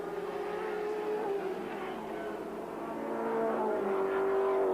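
Turbocharged 1.8 litre four-cylinder touring car, over 300 horsepower, racing at Sandown in 1983, a sustained loud engine drone with shifting pitch as cars pass and accelerate through a corner exit, steady throughout.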